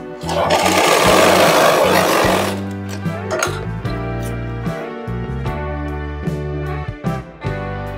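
A sewing machine stitches tucks on a blouse, whirring fast and loud at first, then running in slower bursts with pauses. The motor hum is prominent and close, with clicks and small knocks between the runs.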